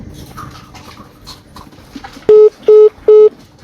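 Three loud, evenly spaced telephone keypad tones ring out after a stretch of faint background noise and indistinct voices, the sound of a number being dialed for a call.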